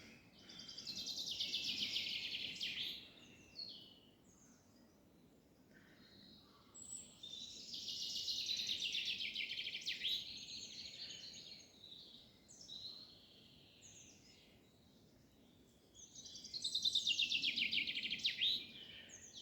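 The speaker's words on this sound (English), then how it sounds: "Listen to all that bird song." Birdsong in coastal dunes in May, several birds singing in bursts of bright, rapid warbling phrases that come and go at moderate distance over a quiet background.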